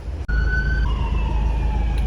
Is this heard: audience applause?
no